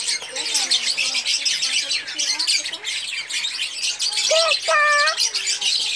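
Noisy caged birds squawk and chirp in repeated sharp calls, close and loud, with a person's voice faintly in the background.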